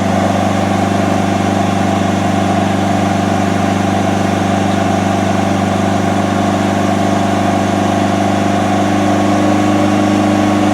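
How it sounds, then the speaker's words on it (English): A Vauxhall Zafira B 1.7 CDTi Z17DTJ diesel with a power loss and no-boost fault is held at a steady 3000 RPM, a loud, constant, close drone with no variation and no voices. "raise up the engine RPM to 3000 RPM and see how much pressure can we have from the turbo"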